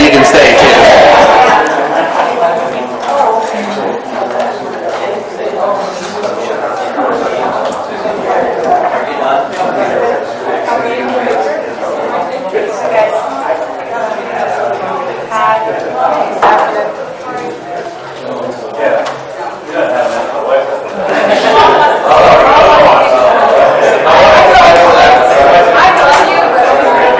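Large crowd chattering at a public parks and recreation commission meeting, a dense, steady murmur of many overlapping voices with occasional laughter, loud and continuous throughout, swelling near the end.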